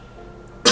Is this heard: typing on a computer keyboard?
no